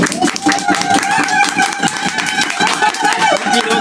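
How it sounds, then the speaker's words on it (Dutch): An audience at an event claps continuously in dense, lively applause, loud and near throughout, with voices mixed in. "En daarom willen wij uw hartelijk applaus voor Johan en"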